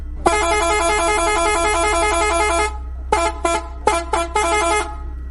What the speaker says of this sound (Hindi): वह कब से हॉर्न बजा रहा है।